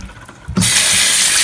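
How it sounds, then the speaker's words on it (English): Vinegar soaking water being poured off salt mackerel in a kitchen sink, a sudden loud rush of water that starts abruptly and keeps flowing steadily. "I'm gonna throw my water off"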